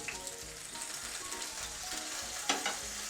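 Milk-and-egg-soaked bread fries in oil for French toast, a steady close sizzle with faint crackle throughout and a couple of sharper pops near the end.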